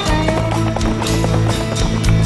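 Horse hooves clip-clopping at a steady trot alongside a groom handling the animal, loud and close with overlapping rhythmic hits, a full background of other sounds and no speech.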